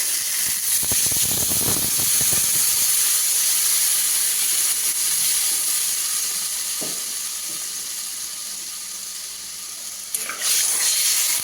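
Water poured into a pan of fried spice masala with ridge gourd and potato, a loud steaming hiss and sizzle that slowly fades over several seconds, with brief clinks of utensils near the start and end.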